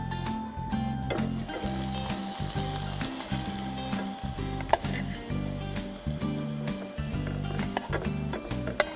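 A last ingredient sizzles loudly and continuously in a hot pan at close range, with rhythmic scraping and stirring knocks pulsing throughout and no talking.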